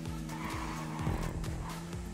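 A car skids and squeals under braking in GTA on a custom map, a sustained tonal tire screech over a steady engine drone, fairly faint and continuous.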